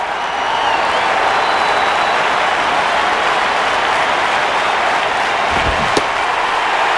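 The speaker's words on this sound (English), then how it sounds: "This crowd is hanging on every pitch." Crowd in the baseball video game MLB 08: The Show, a dense, steady wash of cheering and applause that fills the whole stretch, with a single sharp knock near the end.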